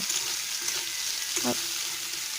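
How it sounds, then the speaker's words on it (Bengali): Chopped onion and tomato sizzle in a hot wok, a soft steady frying hiss broken by a few brief scraping stirs. "গরম কড়াইয়ে পেঁয়াজ আর টমেটো কুচিটাকে দিয়ে নেড়ে একটু ভেজে নেব।"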